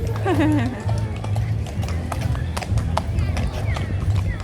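Horses clip-clop past at a theme park attraction in Shenzhen, China, their steady hoof beats mixed with a busy crowd and loud nearby talking throughout.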